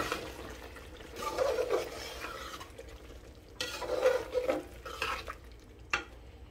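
Potatoes go into a pan of frying chicken and cauliflower and are stirred in, giving a few bursts of scraping and soft sizzling over a quiet hiss, fairly faint and close, with no voices.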